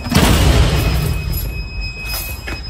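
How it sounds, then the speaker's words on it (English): An alarm sounds from a fire truck that is not plugged in, inside a fire headquarters truck bay, two thin steady high tones holding throughout over a loud low rumble and clatter. "I hear an alarm going off."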